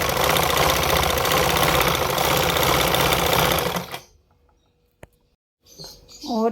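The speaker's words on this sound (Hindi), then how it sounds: "अब हम टांका फुल कर देंगे मशीन का और इस तरफ हम सिलाई" A sewing machine stitching a girl's frock runs in a loud, fast, steady whir for about four seconds, then stops; a single click and brief faint movement sounds follow in the near silence.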